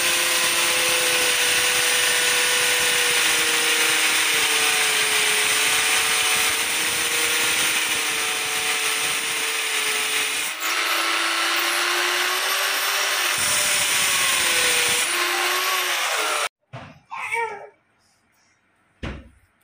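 A power drill whines steadily and loudly for about fifteen seconds while boring through taped ceramic tile, its pitch shifting slightly as it bores, then stops and leaves some clattering handling noises.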